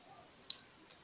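A single crisp mouse click on an on-screen button, one sharp tick alone in an otherwise quiet moment.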